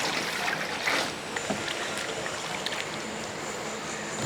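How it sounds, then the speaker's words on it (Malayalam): Water pours and sloshes over cut vegetables being washed in a vessel, a close, continuous watery rush with a brief louder splash early on. "കുറച്ച് വെള്ളം കൂടി ഒഴിക്കും"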